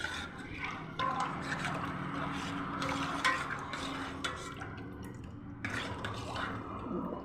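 Ladle stirring a jaggery mixture in a pot for cheese-making, soft scraping and wet sloshing strokes, close and fairly quiet, continuous with slight clinks.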